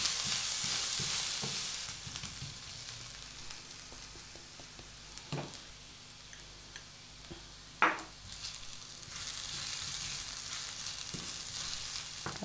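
Garlic and ginger frying in a pan of browned chicken drippings, a steady bright sizzle that eases midway, with a few sharp stirring clinks and scrapes before it swells again.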